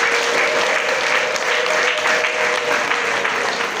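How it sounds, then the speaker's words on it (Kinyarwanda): Dense, steady applause fills a wedding gathering in Rwanda for a couple married in Congo, with a sustained high ululating trill riding over the clapping throughout. "tukayiha amashyi n'impundu nyinshi"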